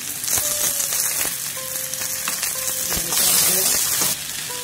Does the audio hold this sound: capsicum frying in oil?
yes